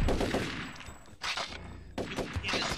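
A grenade goes off in the shooter Turok 3, sending loud, ragged bursts of blast noise and crackling debris through dense gunfire-like racket. Two heavy surges come roughly a second apart.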